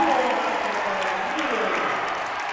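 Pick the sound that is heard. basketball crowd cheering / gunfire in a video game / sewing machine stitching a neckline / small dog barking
basketball crowd cheering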